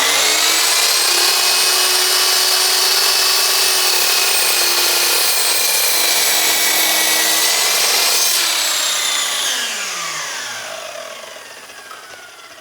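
A mitre saw cuts slowly through a wooden board, giving a loud, steady high-pitched whine and grind for about eight seconds before the blade winds down and the motor fades to a stop.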